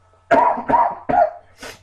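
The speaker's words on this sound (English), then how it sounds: "Pardon me for the coughing." Three sharp coughs in quick succession, close to the microphone, followed by a softer fourth cough or throat clear.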